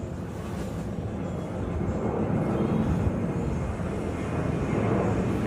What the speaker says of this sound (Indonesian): Tadi ada pesawat lewat guys.